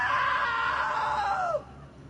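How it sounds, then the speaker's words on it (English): A woman's long, loud, high-pitched scream from a comedy sketch, held steady for about a second and a half before sliding down in pitch and cutting off sharply. "Now that was a great scream."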